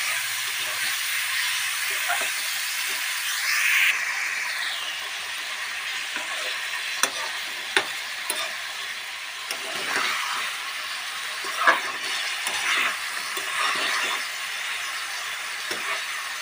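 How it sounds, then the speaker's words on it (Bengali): Magur catfish frying in a hot pan, a continuous broad hissing sizzle with scattered pops and crackles, fairly loud and steady throughout. "আমি এখন মাছটা ঢেলে দেব।"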